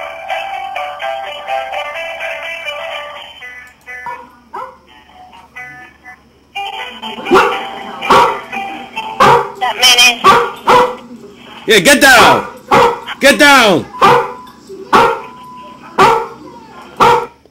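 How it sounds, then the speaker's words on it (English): A dog barks repeatedly in sharp, loud bursts close by, with whimpers between, while a person shouts over it and other voices talk. "I'm sorry, that's my dog"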